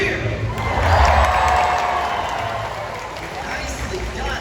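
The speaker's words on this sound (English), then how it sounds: "give him a great big cheer" A large stadium audience at an orca show cheers and roars in a sustained, dense wave of crowd noise that swells and slowly tapers.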